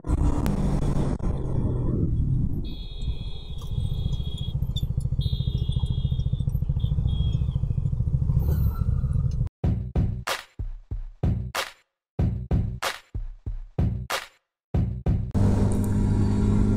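A Honda CBR150R sport motorcycle roars along a highway at night at speed amid heavy wind rush, the sound later breaking into choppy bursts and brief dropouts.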